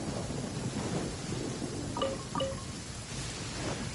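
Rain and rumbling thunder in the Genshin Impact game, a steady wash of rainfall with low thunder underneath, with two brief tonal chimes partway through.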